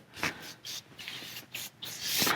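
Super Clean aerosol degreaser hisses from a can onto a grease fitting on an old tractor in several short, close bursts separated by brief pauses.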